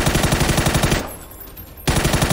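Rapid automatic gunfire from PUBG, loud and close, in two sustained bursts of rhythmic shots with a brief quieter gap between them and no talking.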